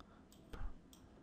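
A single mouse click sounds while formatting is cleared in Microsoft Word: one quiet, sharp click near mid-clip with a faint second tick, under a low room hiss and no talk.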